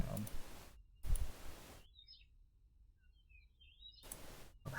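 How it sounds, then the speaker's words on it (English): Video game bird sound effects: a few short, high synthetic chirps and tweets, faint and scattered across a quiet stretch. Brief bursts of other noise sit at the start and end. "I like the bird noises, even if they're not enormously natural sounding."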